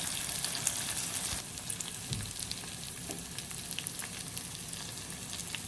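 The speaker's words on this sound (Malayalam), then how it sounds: "ഇപ്പം നമ്മുടെ മീൻ പുരട്ടി വെച്ചതെല്ലാം ഞാൻ നമ്മുടെ തവയിലേക്ക് ഇട്ട് കൊടുത്തിട്ടുണ്ട്." Marinated fish sizzles and fries on a tawa over a medium-low flame, a steady close crackle with small pops and a few brief knocks, and no voices.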